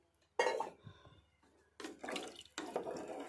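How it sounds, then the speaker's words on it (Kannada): Water is poured from a glass into a pot of rice and vegetables for pulao, arriving in three separate close, splashy gushes with faint metallic clinks between them. "ಇವಾಗ ನೀರು ಹಾಕ್ಕೊಳ್ಳೋಣ"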